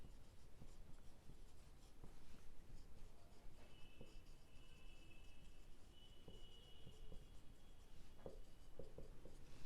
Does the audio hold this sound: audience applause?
no